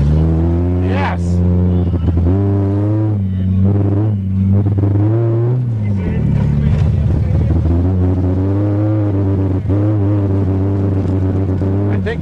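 A Toyota Cressida engine with leaking fuel lines runs and revs in loud, sustained rumbling surges, its pitch rising and falling, with people talking over it.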